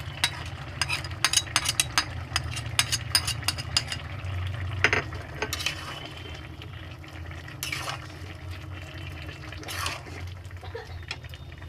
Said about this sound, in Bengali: দেখুন রাঁধুনি বাটাটা দিয়ে একটু ফুটিয়ে নিলাম।